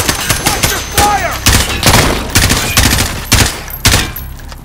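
Gunfire from the Call of Duty Modern Warfare video game comes in loud, sharp bursts and single shots, spaced irregularly across several seconds, with some softer game sounds between them.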